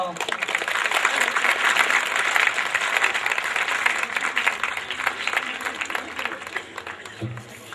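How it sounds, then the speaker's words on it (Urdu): Audience applause at a spiritual workshop, loud sustained clapping from a large crowd that gradually thins toward the end, with a voice briefly heard over it. "تالیاں."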